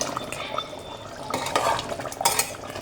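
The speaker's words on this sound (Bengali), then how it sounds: "এটাকে আরেকটু নেড়ে চেড়ে দেবো" Beef is stirred in a pressure cooker, with a utensil scraping and clinking against the metal pot in close, uneven strokes over a low sizzle.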